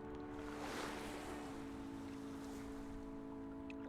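Gentle lapping water and a soft wash of waves at a Norwegian fjord in the game Draugen, a steady, continuous ambience with a low hum beneath and no voices.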